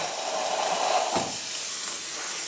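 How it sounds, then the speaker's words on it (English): A Rocket R58 espresso machine's steam wand gives a steady, strong hiss of pressurized steam, broad and close, with a brief soft thump partway through. "Nice strong steam."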